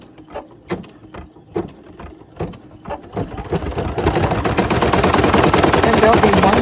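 An embroidery machine stitches applique eyes and a mouth, starting with a few slow, spaced mechanical clacks before breaking into a dense, loud, rapid rattling hum of needle strokes.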